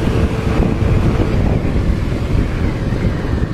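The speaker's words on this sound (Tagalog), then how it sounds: "Lakas ng hangin." Strong wind buffeting the microphone in a continuous low roar beside a Yamaha Aerox 155 scooter stopped by the road after shutting down, steady and loud throughout with no voices.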